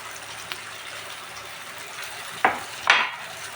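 Chilies fry in a pan for pasta under a steady soft sizzle. A couple of sharp scraping stirs come near the end.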